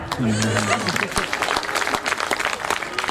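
Applause from an audience at a Hindi poetry reading, a kavi sammelan at Khariar Road, with dense clapping running for several seconds alongside a voice over the crowd.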